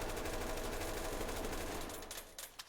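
Rapid full-auto fire from an MCX rifle in the tactical shooter Ready or Not, a dense continuous burst that thins out toward the end with a few last scattered shots.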